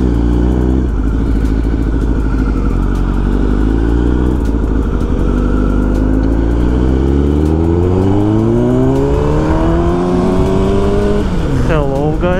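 Kawasaki ZX10R and Z800 motorcycles riding through a cold city, engines droning loud and steady up close, with a rising pitch sweep as one revs and accelerates near the end; no speech over the engine noise.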